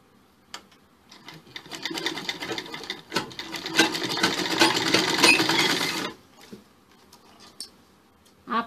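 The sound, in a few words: sewing machine stitching a sherwani suit sleeve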